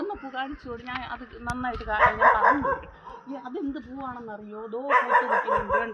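A dog barks and yips intermittently in bursts while people talk over it nearby.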